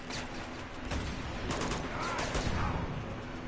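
Gunfire in the video game Uncharted 2: a dense, continuous barrage of overlapping shots and bursts, with no talking.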